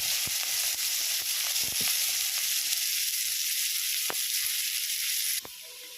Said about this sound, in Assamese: ৰঙাকৈ ফ্ৰাই হোৱাকৈ মই এতিয়া ভাজি ল'ম। এতিয়া মই অকণমান পিঁয়াজ দি দিম।